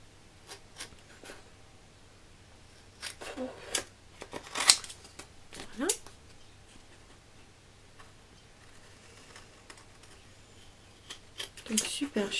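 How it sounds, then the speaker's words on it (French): Large scissors cut through paper for a serviettage craft. The cuts come as close, dry snips in scattered bursts with quiet gaps between them, and a voice is heard briefly. "C'est pour ça que je prends un grand ciseau."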